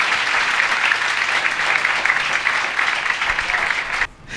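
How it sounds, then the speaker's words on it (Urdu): A congregation at a Sunday church service claps loudly and steadily for the Lord, a dense, continuous wash of applause that cuts off sharply near the end. "زوردار تالیاں بجائیے خداوند کی حضور۔"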